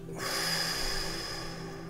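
A deep breath drawn in and let out during a guided affirmation exercise, a close, steady airy rush with no talking, running for about two seconds.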